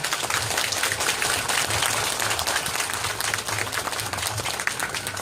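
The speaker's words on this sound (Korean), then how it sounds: "우리 삼순이한테 박수 한번 보내주세요" A festival crowd at a riverside canola flower festival in Changnyeong applauds a traditional pumba street performer, with dense continuous clapping throughout, steady and fairly loud.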